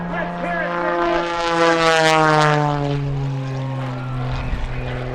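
A modified Pitts Special aerobatic biplane at an air show, its propeller engine droning loud and steady with a pitch that sweeps and shifts as it passes overhead, under an announcer's talk.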